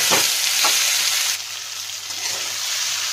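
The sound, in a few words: spices frying in a pan for Bengali fish head curry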